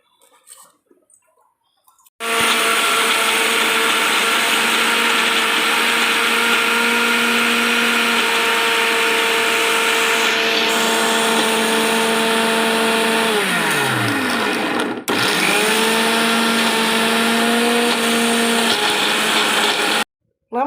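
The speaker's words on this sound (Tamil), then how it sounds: "இப்போ நாம் இதை வந்து மிக்சியில் அரைச்சி எடுத்துகிட்டு வந்துடலாம்" A mixer grinder grinds oats and prawns, starting abruptly after a quiet moment into a loud steady whine, winding down and briefly stopping midway before running again at full speed and cutting off.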